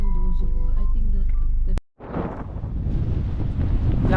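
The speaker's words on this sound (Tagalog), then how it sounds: "Lakas ang hangin." Strong wind at a beach buffets the microphone with a heavy, rumbling roar that starts abruptly after a short cut, following a few seconds of talking and other sounds.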